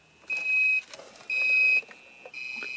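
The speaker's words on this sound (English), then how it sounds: "Now the alarm comes on" An electronic alarm from a Soviet digital alarm clock beeping in repeated bursts, each about half a second, with a faint buzz in between.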